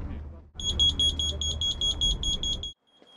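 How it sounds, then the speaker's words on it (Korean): A carbon monoxide alarm inside a camping tent with a heater running shrills in rapid repeated high beeps for about two seconds, loud and close, over a low rumbling background, then cuts off. "경보기가 울립니다."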